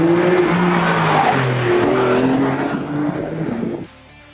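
A Porsche 911 992 Carrera S with a twin-turbo flat-six engine drives nearby, its engine droning loudly with shifting pitch as it pulls along, then dropping away sharply near the end.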